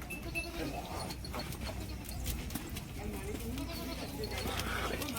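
Goats bleating at a goat market in Puhalla, Bathinda, heard as faint scattered bleats within a dense, noisy crowd bustle with people talking throughout.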